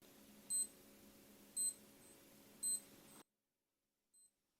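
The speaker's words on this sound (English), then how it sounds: "this is what the alarm sounds like." A Casio G-Shock GW-BX5600 watch alarm gives three short, evenly spaced high beeps, faint and close, followed by a brief pause and one more quieter chirp.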